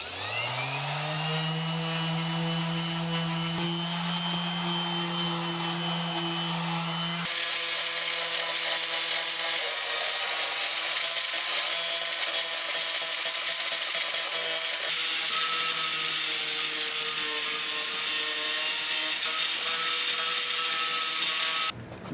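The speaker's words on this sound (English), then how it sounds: "Now I'll grab some 80 grit sanding paper and grind down all the rust underneath the car." A rusty car underbody sanded and ground down with 80 grit sandpaper: a continuous, loud, rough abrasive scraping with a steady droning machine-like hum throughout, growing harsher partway through and stopping abruptly at the end, with no talk.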